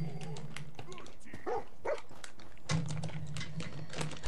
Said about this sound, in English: Kill both the dogs